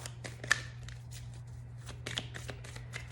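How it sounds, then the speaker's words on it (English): Playing cards are shuffled in quick, papery bursts of riffling and flicking, close and clear over a low steady hum. "let me shuffle one more time"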